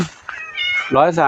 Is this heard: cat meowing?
yes